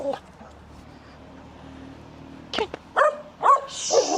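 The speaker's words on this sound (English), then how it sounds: "You don't have to bark." A dog barks several times in quick, sharp yips near the end, close by outdoors on a walk at Henley by the Thames, after a few quiet seconds of background hum.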